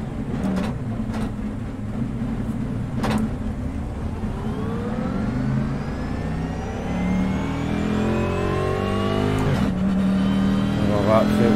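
A car with a soft left rear spring setup starts and revs, its engine climbing steadily in pitch toward a higher rev near the end, loud and close while someone talks over it.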